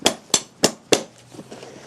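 A farrier drives a nail into a horse's hoof with a hammer, giving four sharp ringing blows at an even pace and then a few fainter taps, close and loud.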